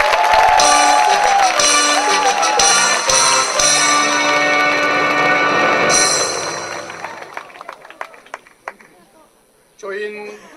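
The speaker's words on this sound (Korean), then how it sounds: "여기에 다시 한번 큰 박수 부탁드립니다." Soldiers cheer and applaud at a 2006 entertainment show for a military unit, a loud burst over lingering music that thins into scattered claps and fades before a voice begins speaking.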